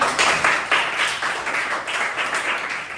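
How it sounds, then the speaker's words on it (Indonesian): A classroom audience applauds a student named Cen, a dense crowd of clapping hands swelling in several waves and staying steady and fairly close for about three seconds, with no talk over it. "Kita beri tepuk tangan untuk Cen"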